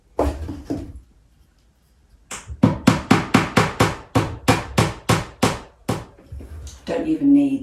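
A nail being hammered into a wall to hang a lightweight canvas: a rapid run of about thirteen sharp, loud metallic blows in steady rhythm, following a brief voice and a pause.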